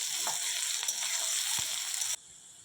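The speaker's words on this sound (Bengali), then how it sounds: "অ্যাড করে দিচ্ছি কুচনো পেঁয়াজ। নাড়াচাড়া করে নিচ্ছি।" Chopped onions fry in hot oil with panch phoron spices in a pan for a banana stem prawn curry, giving a loud, continuous sizzle with occasional scraping stirs, and the hiss drops suddenly near the end.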